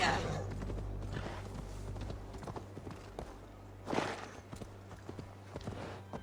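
Horse hooves clip-clopping in Assassin's Creed Valhalla, a steady walking rhythm of hoof falls over a low hum, with a louder thump partway through and a voice speaking over it.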